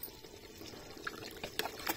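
Boiled potatoes and chickpeas tipped into curry gravy, heard as a short, quiet wet pouring and splashing with no voices.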